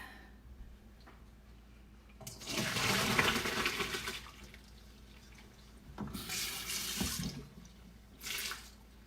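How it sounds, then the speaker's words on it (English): Pasta water poured from a pot through a strainer in a kitchen sink, three bursts of splashing, gushing water separated by quieter pauses, close and alone without talk. "I'm gonna drain it. I have a strainer in the sink."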